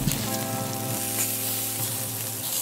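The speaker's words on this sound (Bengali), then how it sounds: "5-10 মিনিট আমাদেরকে একটু কুক করতে হবে ঢেকে, ততক্ষণ অব্দি এরকম বাবলস উঠছে।" Black chana curry simmering in a covered pot, giving a steady close sizzle with a soft bubbling texture and a low hum underneath, with no voices.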